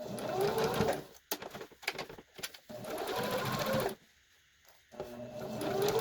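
A sewing machine stitches mask fabric in short bursts of rapid whirring, stopping and starting several times with a brief quiet pause, close and clear with no speech.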